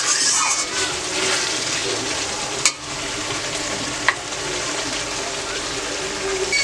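Spices sauté in hot oil in a pan for a curry, a loud continuous close sizzle with two sharp stirring clacks against the pan.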